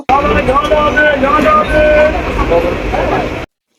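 A train rumbles along loudly with steady clattering and rolling noise, while voices talk underneath before it cuts off abruptly.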